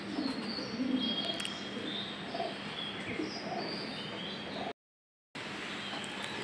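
Pigeons coo and chirp softly outdoors in the morning, several birds calling intermittently at a moderate distance over a constant background hiss, with a short dropout near the end.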